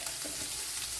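Finely chopped onion dropped into hot oil for a quail egg roast, giving a steady, close, moderately loud sizzle with a faint watery crackle throughout, no voices.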